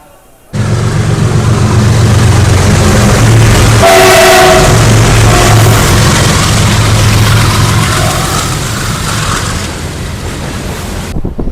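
A MEMU passenger train pulls out of Yelamanchili station on the Vijayawada–Visakhapatnam line, a loud steady rumble of wheels and motors filling the whole stretch, with a brief horn-like tone near the middle and a faint voice in the background.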